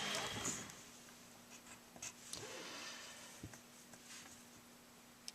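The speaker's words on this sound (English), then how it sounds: "Let me write that 14 a little neater." Pen scratching on paper as numbers of an algebra equation are written out, a faint close scritching in short strokes with small taps and pauses, alone.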